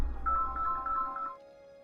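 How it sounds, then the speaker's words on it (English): A mobile phone rings during a Core Keeper gaming session, a bright repeating electronic ringtone warbling for about a second before cutting off, close and loud with no talk over it. "Oh god, why is my phone going off?"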